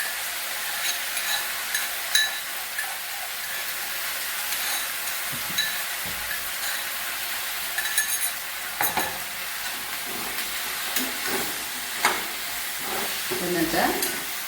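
Crushed ginger, garlic and green chillies fry in a pan for a masala curry, a steady quiet sizzle with intermittent scraping stirs, close and without talking.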